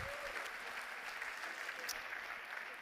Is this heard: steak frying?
no